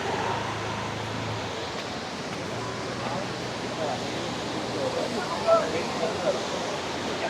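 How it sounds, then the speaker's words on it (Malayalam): A powerful waterfall at Kuttralam in Tenkasi during the rainy season roars as a steady, dense rush of falling water, continuous and loud throughout. "അത്ര ശക്തിയായിട്ടാണ് വെള്ളം വീണുകൊണ്ടിരിക്കുന്നത്"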